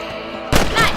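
A single sharp, loud rifle shot at rabbits in the Red Dead Redemption video game cracks out halfway through, following a quieter background hum.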